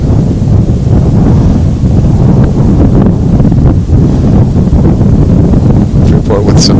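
Gusty wind buffets the microphone at an outdoor boys' soccer match, a steady low roar with dense rumble running throughout, loud and close, while a commentator talks over it.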